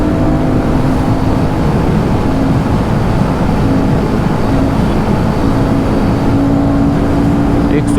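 A Royal Enfield Guerrilla 450 motorcycle in fifth gear at about 120 km/h and 7000 rpm, its engine a steady loud drone buried in roaring wind.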